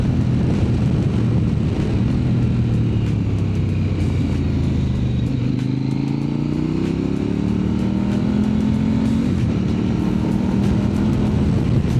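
A KOVE 800X GT adventure motorcycle's engine at full throttle roars loud and close, its pitch rising and falling through quickshifted gear changes over constant wind rush.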